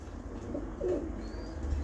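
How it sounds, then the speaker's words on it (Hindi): A domestic pigeon of a breeder's flock gives a short, low cooing call at close range over a faint background hum, lasting about a second. "ये ढालवें कूदे का कबूतर है"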